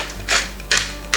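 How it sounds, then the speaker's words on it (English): A pepper grinder cranks out freshly ground pepper in a kitchen while roasted tomato sauce is being made, giving three short, dry, gritty bursts of grinding spaced evenly apart, close and fairly quiet. "Some pepper, I like freshly ground."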